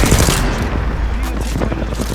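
Rapid gunfire from the Apex Legends battle royale game, a fast rattling burst of close, loud shots running through the whole two seconds over a muddy background.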